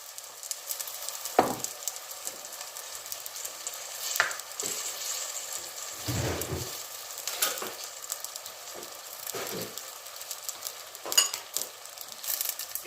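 Vegetables, including tomato, sautéing together in a pan for a quick vegetable soup, a steady soft sizzle with occasional stirring scrapes and clinks, close and alone.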